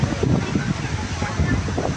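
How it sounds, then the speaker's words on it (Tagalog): Strong coastal wind at Pagudpud buffets the microphone with a steady roar that covers the whole clip, with possible surf underneath. "Walang tigil ang hangin dito, lalo na pag siguro bagyo, no?"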